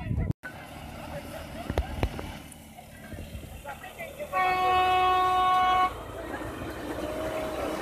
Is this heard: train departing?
yes